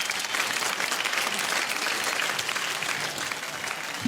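A room full of people claps loudly and steadily, a dense, continuous burst of applause with no voices standing out.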